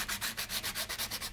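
Sandpaper rubbed back and forth along the wooden edges of a canvas stretcher frame, a steady rhythmic rasp of about a dozen close strokes with no talking.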